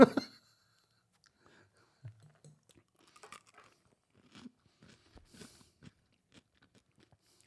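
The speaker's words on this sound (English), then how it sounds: "We're gonna eat this pickle." A pickle from a jar is bitten and chewed, with a loud first crunch followed by soft, sparse chewing clicks and faint mouth sounds, very close and otherwise quiet.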